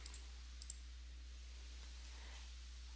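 A few faint, sharp button clicks from a calculator being tapped, spaced unevenly over a quiet, steady background hum.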